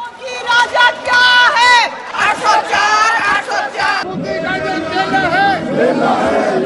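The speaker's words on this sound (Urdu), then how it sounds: "حکومتی ارکان نے احتجاجی نعرے لگائے" Government members shouting protest slogans in a legislative assembly during a budget speech: loud, rhythmic group chanting in bursts, with overlapping voices and crowd noise throughout.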